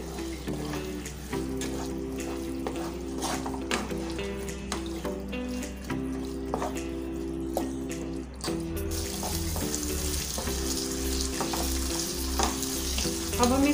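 Marinated prawns hiss and sizzle steadily in a hot pan while being stirred, with scraping strokes and a brief watery rush partway through; the frying is close, continuous and heard alone without talk.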